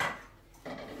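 A spoon and fork clink together with a soft metallic chink at the start and another light rattle near the end, quiet and close, no speech.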